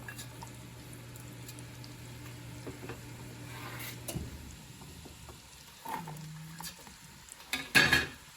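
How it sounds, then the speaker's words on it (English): Onions sauté in olive oil and butter in a Dutch oven, a quiet steady sizzle with a low hum beneath, then a few louder stirring scrapes near the end. "After your onions have sauteed for about 5-6 minutes"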